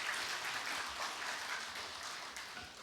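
Audience applause at a university president's farewell ceremony, a steady wash of clapping sustained for about three seconds at moderate distance with no talk over it.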